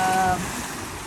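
Sea waves wash against a man-made rock barrier, a steady surf hiss with a brief tonal whine at the start, close and moderately loud with wind-like rushing.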